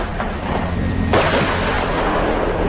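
A Panzerhaubitze 2000 self-propelled howitzer fires once, giving a sudden loud boom about a second in that rolls into a long, rumbling decay over steady low background noise.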